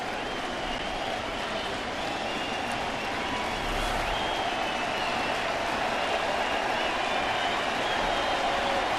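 A crowd of 42,000 at a Phillies at Detroit baseball game cheering and applauding in a steady, distant wash of noise that holds throughout.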